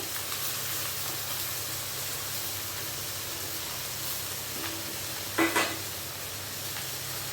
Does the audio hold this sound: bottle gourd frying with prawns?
yes